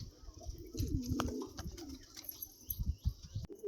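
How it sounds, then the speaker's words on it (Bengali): Pigeons coo softly and nearby, a few low rolling calls with faint chirps and light rustling in a quiet setting. "পায়রা দেখো বন্ধুরা"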